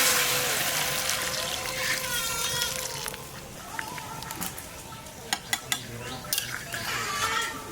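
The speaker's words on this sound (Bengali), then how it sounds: "মাংস কষানো হয়ে গেছে, এখন গরম জল দিয়ে দেবো।" Hot water poured into a pot of sautéed mutton, a splashing slosh followed by clinks of a spoon against the pot, with a voice speaking over parts of it.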